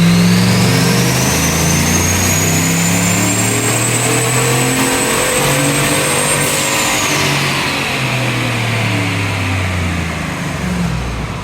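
A turbocharged Chevrolet Suburban engine roars through a sustained dyno pull, loud and close, its tone climbing steadily as a high turbo whine rises and then drops near the end.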